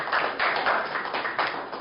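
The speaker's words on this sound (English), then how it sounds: "Round of applause for Chris." Audience applause for a presenter at a business seminar on China: a steady, dense patter of many hands clapping at close range, slightly uneven in level, with no talking over it.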